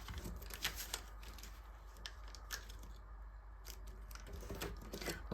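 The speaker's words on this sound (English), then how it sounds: "let's just fold this up just along the edge, like so, and then just fold this to there" An A4 sheet of paper being folded and creased by hand for an origami fighter jet, soft close crinkles and rubbing scrapes with a few sharper crackles over a low hum, no speech.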